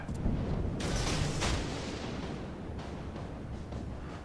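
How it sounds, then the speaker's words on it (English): Heavy naval guns boom in the video game World of Warships through a dense, continuous roar, with a few sharper blasts standing out over the rumble. "Can see the gunfire."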